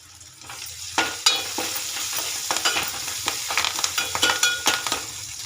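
Bottle gourd frying in a pan with curry leaves, a soft bed of sizzle punctuated by frequent sharp spatula scrapes and taps in an uneven rhythm, close and fairly quiet, with no speech.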